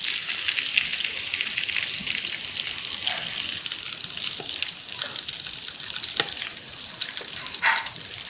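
Small fish frying in hot oil in a pan, a continuous crackling, spattering sizzle close by with a few sharper pops and light clicks scattered through, steady and without talk.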